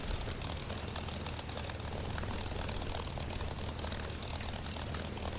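A P-51D Mustang's propeller engine in a flight simulator, taxiing on the ground: a loud, continuous, rumbling drone with a fast, even, pulsing texture and no pauses.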